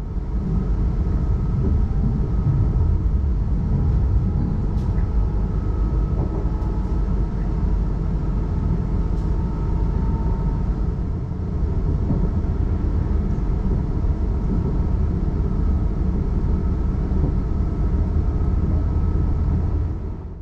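Interior rumble of an SWR Class 444 Desiro train in motion, a steady, loud, broad low roar that carries on without a break, with faint rattles and squeaks above it.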